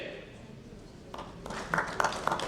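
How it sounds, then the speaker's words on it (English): An audience at a panel discussion on AI in treasury management breaks into applause for a panel member, the clapping swelling in after a quiet stretch and building into a dense, moderately loud patter with a few sharper claps. "A big round of applause to Brij ji for his wonderful contribution in the panel."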